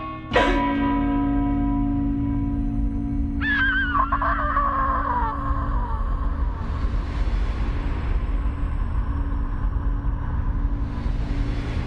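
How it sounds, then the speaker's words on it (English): Church bell tolling in the video game Blasphemous 2, a loud, resonant strike that rings out and slowly decays, followed by a second bright metallic peal over a low rumbling ambience. "I hear a bell tolling"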